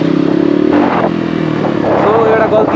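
A Suzuki RM250 dirt bike engine runs steadily up close on an off-road trail ride, its buzzing drone partly under a voice talking.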